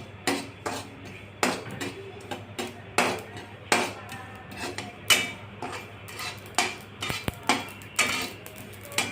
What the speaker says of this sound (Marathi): आता आपण खसखस भाजत आहोत.